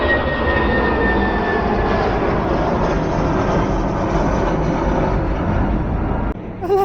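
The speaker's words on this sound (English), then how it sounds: "we are now having a nice cold Budweiser while watching the planes take off" Jet airliners taking off at London Heathrow Airport on a sunny day, a loud continuous broadband engine roar with a faint high whine, steady throughout before dropping briefly near the end.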